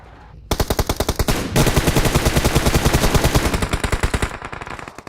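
Rapid automatic gunfire in PUBG Mobile, loud and close, with a short burst followed by long sustained strings of shots that fade toward the end.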